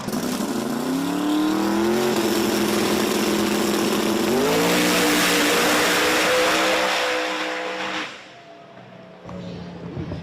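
A drag racing car makes a pass down the strip at Virginia Motorsports Park during a 2024 outlaw drag event. The loud engine roars steadily with its pitch climbing, then drops away sharply near the end, leaving distant engine noise.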